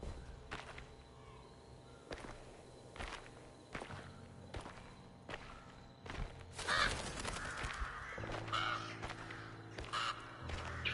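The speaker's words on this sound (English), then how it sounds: "Freaking crows." Crows caw loudly in the Alone in the Dark video game, heard over footsteps that tap out a regular rhythm and a dark, droning ambient bed.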